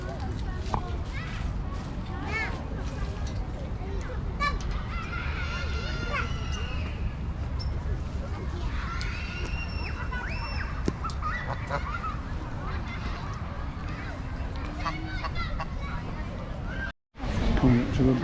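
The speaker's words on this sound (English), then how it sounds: "Some lots of geese around here." Geese honking in St James's Park, London, repeated nasal calls from several birds, some close and some farther off, over a background of crowd babble and people talking.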